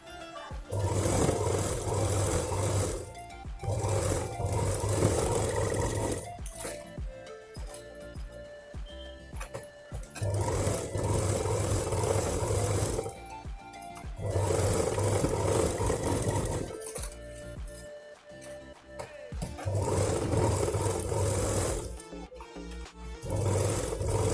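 A sewing machine stitches across the zippers of a small layered-zip shoulder bag, running in several loud bursts of steady whirring separated by short quiet gaps.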